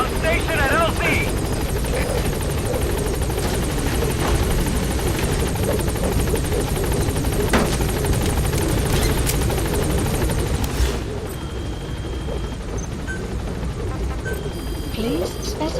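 The Pequod helicopter hovers at a landing zone in Metal Gear Solid V, its rotors chopping in a loud, steady drone while radio voices talk over it and sharp game effects flicker in the mix.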